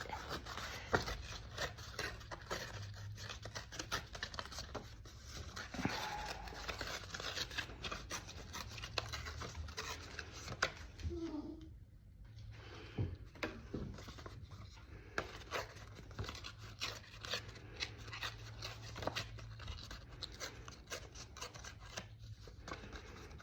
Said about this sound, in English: So I'm gonna start ripping it.